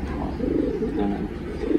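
Racing pigeons coo in a low, continuous murmur from several birds close by, with a steady, dense, throaty hum throughout.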